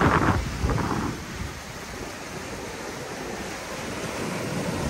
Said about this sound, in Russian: И волна просто классная.